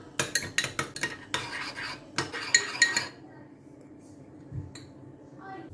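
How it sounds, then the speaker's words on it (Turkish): A spoon stirs olive oil, thyme, garlic powder and black pepper into a sauce, clinking rapidly against the dish for a few seconds before it fades to quiet scraping and a lone clink. "yarım kahve fincanı zeytinyağını, bir miktar kekik, bir miktar sarımsak tozu, bir miktar karabiber ilave edip karıştırıyoruz."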